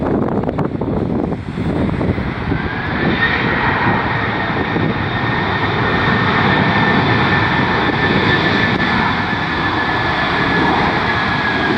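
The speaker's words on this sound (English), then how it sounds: "There's a Cessna Citation." Cessna Citation jet aircraft at Dulles, a loud, steady jet roar with a high whine, heard close under wind buffeting on the microphone.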